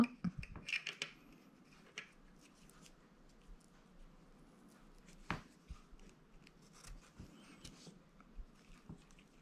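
Scissors snip a bevel into small card butterfly wings, a few sharp close cuts and rustles of paper scattered through a quiet room.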